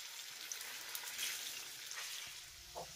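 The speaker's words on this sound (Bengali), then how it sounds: "আর ভাজার সময় কিন্তু গ্যাসের ফ্লেমটাকে অবশ্যই মিডিয়ামে রেখে ভেজে নেবেন।" Chana dal fritters frying in oil over a medium gas flame, a soft, steady sizzle and hiss with faint bubbling pops throughout.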